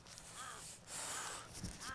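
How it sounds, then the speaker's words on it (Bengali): A crow caws three times against a soft wind-like background in the snow high on the Gulmarg gondola route in Kashmir, the calls fairly faint and distant. "আর দেখো কাক ডাকছে।"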